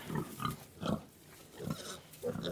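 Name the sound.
baby pigs grunting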